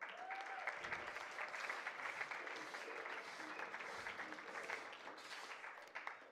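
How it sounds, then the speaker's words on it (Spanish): An audience at a regional oratory contest final in Los Santos province, Panama, applauds during a medal presentation: continuous, fairly soft, slightly distant clapping lasting about six seconds, with no one talking over it. "con un fuerte aplauso."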